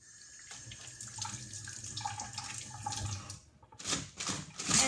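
Tap water runs steadily into a sink for face washing during a skincare routine, a continuous splashing hiss that briefly drops away before resuming with louder bursts near the end.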